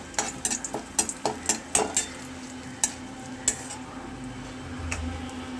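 Dried chili, bay leaf and cumin seeds fry in hot oil for a Bengali kochu shak dish, with a string of sharp spatula taps and scrapes against the pan over a low sizzle, the clicks thinning out toward the end.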